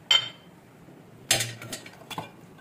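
A spoon clinks against a bowl while an egg mixture with tomato, salt and pepper is mixed, a few sharp separate taps and scrapes spaced across a quiet background.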